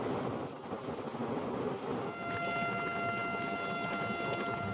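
A blue DMU train runs on the Murkongselek–Ledo line past a river and hills, its steady wheel rumble faint and distant, with a faint drawn-out tonal whine joining partway through.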